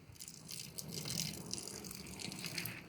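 Boiling water is poured onto garden weeds, making a steady gushing splash with a rattling, crackly texture that runs for the whole few seconds, fairly close, with no talking.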